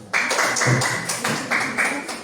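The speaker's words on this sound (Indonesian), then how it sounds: "Kasih tepuk tangan dulu." A class of students clapping for group D, a dense patter of many hands at close range that swells and eases in bursts.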